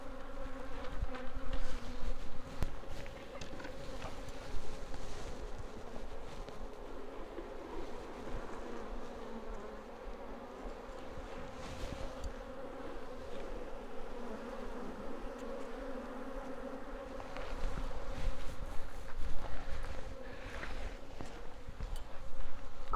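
Honey bees buzz steadily around a two-part beehive on a homestead, a dense droning hum that swells and dips slightly, with no talk over it.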